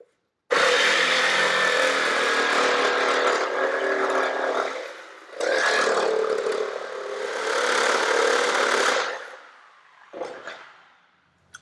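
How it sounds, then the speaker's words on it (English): Aluminium edges pressed against a spinning wire wheel to take off burrs, a loud, harsh grinding rasp lasting several seconds that breaks off twice for a moment and then fades out as the wheel spins down. "Now I'm just going to run it over a wire wheel just to take the burrs off the edges"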